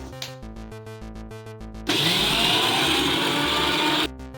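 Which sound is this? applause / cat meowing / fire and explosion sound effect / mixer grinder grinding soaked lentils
mixer grinder grinding soaked lentils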